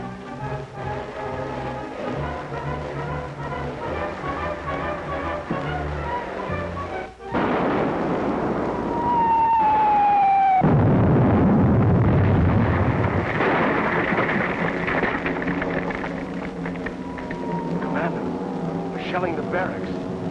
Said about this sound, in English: Shelling the barracks.